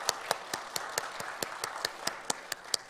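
A church congregation claps to welcome a couple during a Sunday worship service, a steady rhythm of crisp, evenly spaced claps filling the room for a few seconds with no talk over it.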